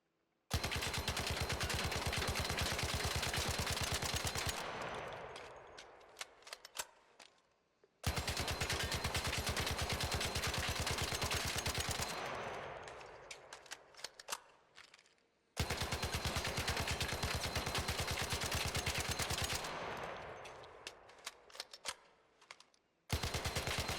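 Three long bursts of rapid automatic fire from a Tempest rifle fitted with a horizontal grip and compensator in ARC Raiders, each loud and close, dense and steady, then trailing into scattered shell tinkles and echo.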